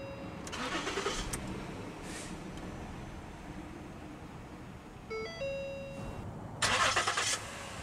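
A 2012 Ford Taurus SEL engine cranks and catches, then settles to a steady mid-pitched idle inside the cabin, with a couple of short chime tones partway through and a brief louder burst near the end.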